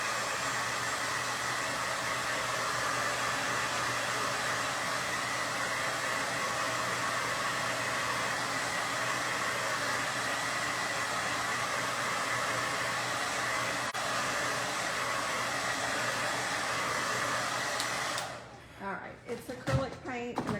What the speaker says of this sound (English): so I'm gonna hit it with the blow dryer.